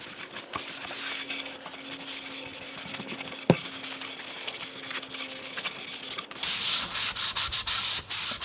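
Sandpaper rubbing over the wooden body of a Leo Jaymz DIY guitar kit in continuous, close strokes, with a few brief pauses and a sharp tap midway.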